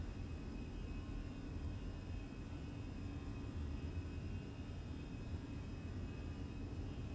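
An Air France airliner on its takeoff roll from Warsaw bound for Paris, a steady, even engine roar and rumble heard from inside the cabin, holding constant throughout.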